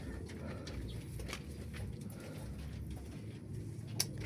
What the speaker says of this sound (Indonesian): anakan merpati saya.